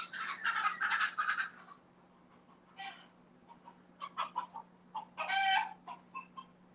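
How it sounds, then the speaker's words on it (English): Roosters fight, letting out bursts of squawking and clucking in uneven clusters, some loud and close, others fainter, over a low steady hum and without speech. "The roosters are fighting."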